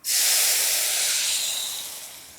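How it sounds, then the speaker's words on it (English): Loud, sharp sizzle of white wine hitting a hot pan, a bright steamy hiss that bursts in and slowly eases off over a couple of seconds. "That's a good sizzle, we like that."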